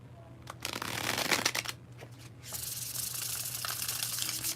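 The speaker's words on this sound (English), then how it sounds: "do ourselves a bridge shuffle" Playing cards riffle-shuffled with a crisp, fluttering rush, followed by a longer steady bridge cascade of cards, close and moderately quiet.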